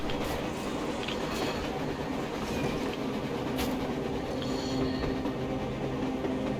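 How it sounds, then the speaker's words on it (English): A train rolls along rails in the video game Metro Exodus, giving a steady, loud, dense rumble with faint rhythmic clacking and an occasional metallic squeal, without talk. "A train! A damn train on the surface!"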